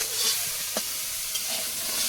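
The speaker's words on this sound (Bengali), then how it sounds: "পেঁয়াজ লঙ্কা দিয়ে পাঁচটা মাছ ভাজা" Fish frying in oil with onion and chili gives a bright, continuous close sizzle, with a couple of short utensil taps over the hiss.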